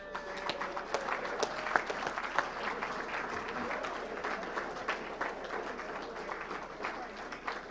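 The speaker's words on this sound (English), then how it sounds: "one big round of applause to all the award winners tonight" A live audience at an evening awards event applauds the award winners, a dense, steady wash of many hands clapping that carries on through the whole stretch at moderate loudness.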